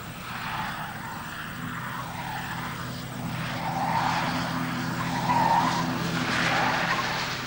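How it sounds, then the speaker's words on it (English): A 1978 Falcon 500 car travels at over 90 km/h, giving a steady, moderately loud engine and road roar with rising and falling tire and wind noise and no talk. "The Falcon is now traveling at over 90 kilometers per hour."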